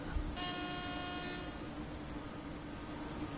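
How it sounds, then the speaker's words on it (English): In the Train Sim World 5 video game, a broken-sounding train horn blows one flat, buzzy blast of about a second, faint against a steady background rumble. "The horn sound is messed up."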